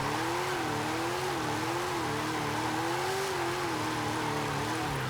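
A quirky sports car with snow tires revs in Forza Horizon 5, its engine note rising and falling in steady waves under a constant wash of road and tire noise, loud and continuous with no talking.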